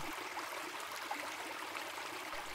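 Steady broadband rush of the Hron river flowing in Slovakia, an even continuous wash of water with no breaks, moderately distant and without voices.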